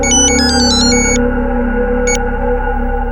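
Electronic telephone ringtone for an incoming call, repeated bright beeping tones in short bursts, loud and close over a steady low background drone, then one more brief burst after a pause.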